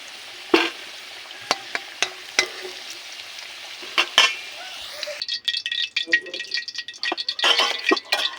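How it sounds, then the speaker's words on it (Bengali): Potatoes fried deep red in oil in a wok sizzle steadily while several sharp metallic clinks and scrapes of stirring ring out. The frying grows denser and louder halfway through, with crackling and rattling. There is no talk. "আলুটা কিন্তু আমি একদম লাল লাল করে ভেজে নিয়েছি।"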